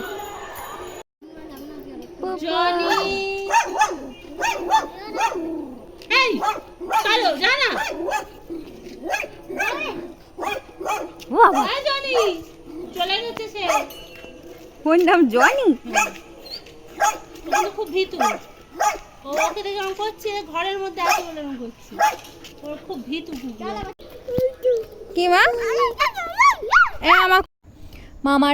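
A dog barks and yips repeatedly in a village setting, sharp close barks scattered through lively overlapping talk from several people, with some whimpering tones between.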